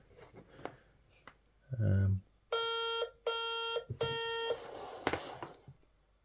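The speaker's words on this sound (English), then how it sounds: "So we've got a flashing light here, and we got those beeps." A roughly 20-year-old G4 Mac Mini, in a broken or faulty state, powers up and gives three evenly spaced, fairly loud electronic beeps, each lasting about half a second, after a brief click and low thump, with quiet room noise around them.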